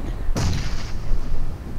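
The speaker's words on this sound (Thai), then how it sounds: "โดนระเบิดหลายลูกแล้วอ่ะ" A grenade explosion in the PUBG Mobile video game lands as a single sharp, booming blast, followed by a brief rumbling decay over steady background game noise.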